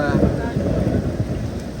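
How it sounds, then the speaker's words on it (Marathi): Heavy rain pours down around a vehicle on a road trip, a dense, steady wash with a wind-like rumble that never lets up, and a voice talks over it. "भरपूर पाऊस पडतो हा"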